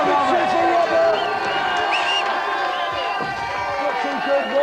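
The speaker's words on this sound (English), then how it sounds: "Let's have a big cheer for Robert." A TV game show studio audience cheers loudly, a dense roar of voices with whoops that fills the whole stretch, with some clapping mixed in and a presenter's voice carrying over it.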